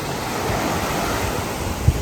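Ocean surf at Seven Seas Beach in Fajardo, Puerto Rico, washes in a steady broad hiss mixed with wind buffeting the microphone, ending in a brief louder gust.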